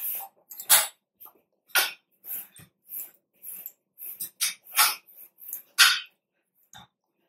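A dog barks and yips in a string of sharp, close bursts at home, spaced irregularly with short silences between them and no one talking.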